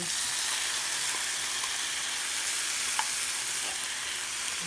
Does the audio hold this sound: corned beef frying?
yes